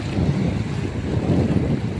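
Strong wind buffets the microphone in a steady, loud low roar at an outdoor cooking spot, continuous for the whole stretch with no talk.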